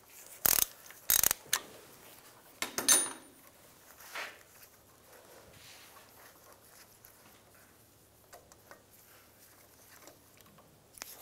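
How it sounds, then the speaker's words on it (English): A bolt on a 1999–2005 Volkswagen Jetta being removed with a 6mm hex socket during radiator replacement, a few sharp ratcheting clicks and metallic clinks up close, then quieter tool handling and faint clatter. "I'm going to take this bolt out"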